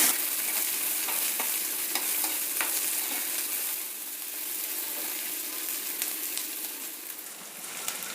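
Crushed garlic frying in hot oil with green chilli and curry leaves, a steady close sizzle with scraping stirring strokes across the pan, no talking.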